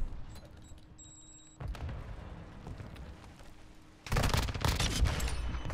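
Bursts of automatic gunfire from a Call of Duty Modern Warfare 2 ranked match, a softer rattle early on giving way to a loud, dense fusillade near the end.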